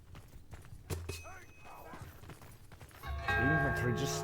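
Horse hooves clatter in a medieval battle video game, a rhythmic clip-clop mixed with clashing, clangs and battle noise, with voices talking over it.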